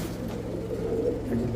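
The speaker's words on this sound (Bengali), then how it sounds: "অনেক বড় সাইজের কবুতর এটা দর্শক মাদি।" A large pigeon gives soft, low cooing close by, a short steady murmur over faint background rumble with no speech.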